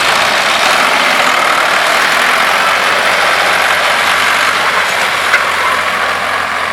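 A Ford 4560 tractor engine runs at about 1600–1700 RPM, giving a loud, steady diesel drone that holds constant throughout without pauses.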